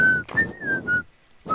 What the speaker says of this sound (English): How about you stop whistling?